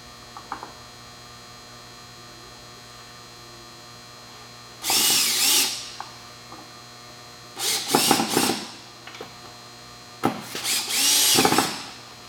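A power drill whirs in three separate bursts of a second or so each as it drives screws into an in2aqua bath display board, with a steady mains hum underneath and no talking.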